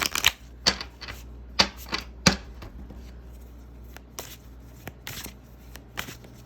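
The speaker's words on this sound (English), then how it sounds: "Let's get a nice big clear shuffle." Tarot cards are shuffled by hand in a series of crisp riffling bursts and sharp slaps, close and clear, with uneven pauses between them against a quiet room hum.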